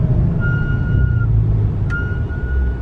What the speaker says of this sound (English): Yep, that unfortunately is my brakes.